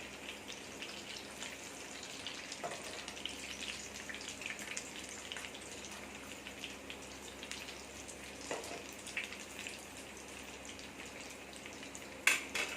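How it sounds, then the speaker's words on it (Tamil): A chicken cutlet frying in oil until golden brown, a soft, even crackle and hiss that continues throughout at low volume, with one sharper pop near the end. "நல்லா கோல்டன் ப்ரௌன் வர்ற வரைக்கும் இதை பொறிச்சு எடுக்கணும்"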